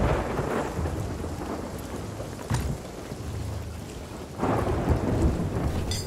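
A stormy sea in Sea of Thieves brings steady heavy rain and rumbling thunder, with sharp cracks and swelling surges of noise washing over a continuous roar.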